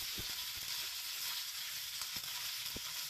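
Pasta and half-cooked, browned vegetables fry in a pan with a constant bright sizzle, broken by a few soft knocks of stirring, close and steady with no talk.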